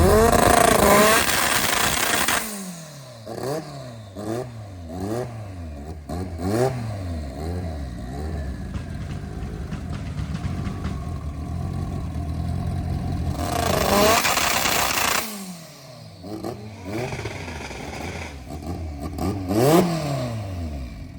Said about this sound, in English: we'll put her up on the 2-step and see what kind of boost she's making up here